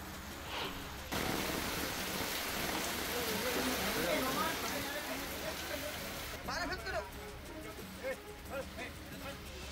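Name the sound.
heavy rain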